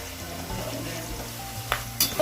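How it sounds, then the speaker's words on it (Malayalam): Onions sizzle and fry in a pan for chicken biryani, a steady low crackle with a few clinks of a utensil against the pan near the end. "സവാള വറുക്കുകയാണ്"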